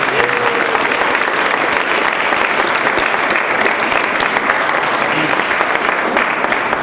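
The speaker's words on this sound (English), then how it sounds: "let's give another round of applause for all those" Sustained audience applause at a Mayor's Recognition Day for national service volunteers, dense and steady throughout, a large crowd clapping together at an even loudness.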